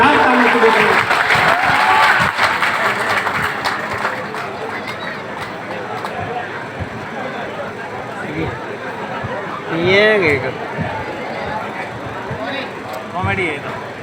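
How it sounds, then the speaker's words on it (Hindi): Enthusiastic audience applause fills the opening seconds of a live comedy show, loud and dense, then thins into scattered claps and crowd murmur with a few brief bursts of laughter near the end. "जोरदार तालियां तो बजाएंगे।"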